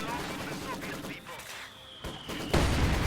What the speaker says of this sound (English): Maxim suppresses them as they're getting inside.